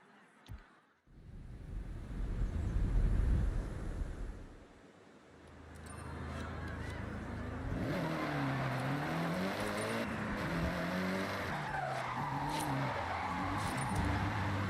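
A Mitsubishi Lancer Evo engine hums and revs steadily while driving in Forza Horizon, with shifting engine tones over a continuous drone and someone talking briefly.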